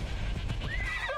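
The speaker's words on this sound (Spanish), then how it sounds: "¿Dónde estás, caballo mío?" A horse neighs in the video game Assassin's Creed Odyssey, one loud, close whinny with a faint clip-clop of hooves beneath it and no voices.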